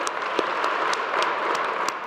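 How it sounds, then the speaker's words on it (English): Audience applause at a Governor's Holocaust Remembrance Program, steady and sustained clapping from a sizeable crowd with no voices over it. "Oh, yeah, you can clap."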